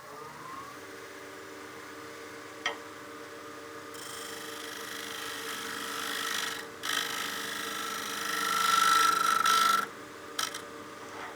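A lathe tool cutting a turning wooden bowl, a steady scraping hiss with a low motor hum underneath, growing louder and rougher in bursts, with a brief whine near the end.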